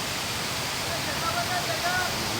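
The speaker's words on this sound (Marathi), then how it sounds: "आता आपण धबधब्याच्या पायथ्याशी पोचलेलो आहोत" A forest waterfall roughly 50 feet high, heard from its base as a steady, dense roar of falling water with no pauses.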